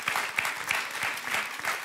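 A studio audience on a French television game show applauds steadily throughout, a dense, even clatter of many hands at moderate loudness.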